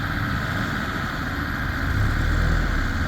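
A 2006 Land Rover Defender 90 strains to pull a stuck 2007 Range Rover out of deep mud at a car meet, its engine droning steadily under load, close and loud.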